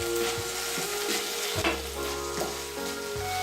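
An onion and tomato curry sizzles and fries in a pan while being stirred, with continuous close crackling and scraping strokes of the spoon against the pan, no voices.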